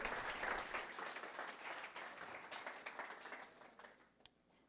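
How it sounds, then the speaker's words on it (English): Audience at a design systems talk gives a round of applause, a steady wash of many hands clapping that slowly thins and fades, heard at moderate distance with no speech over it. "Round of applause."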